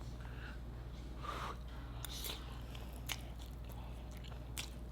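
Biting and chewing a garlic roll stuffed with spaghetti and cheese, close up, with a few soft crunchy bites and wet chewing against a steady low hum.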